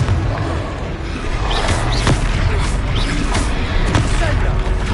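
Confringo blasting spells in Hogwarts Legacy erupt in loud booming explosions, several bursts over dense continuous game noise and low rumble.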